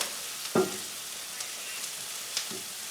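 Onions frying in a pan at home give a quiet, steady sizzle, with one knock from the pan or a utensil near the start and a few faint clicks later.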